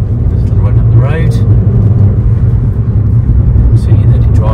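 A 2020 Fiat Abarth 595 70th anniversary edition with the 1.4 T-Jet engine drives along a road, giving a steady, loud low rumble of engine and road noise from inside the car with no break.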